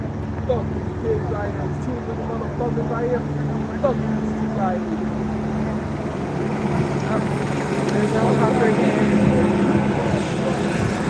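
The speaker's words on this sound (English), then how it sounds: "Helicopter's gotten pretty low at this point." A helicopter flies low over San Pedro, California, its steady rotor drone rumbling continuously and fairly loud, with faint traffic and distant voices mixed into the background.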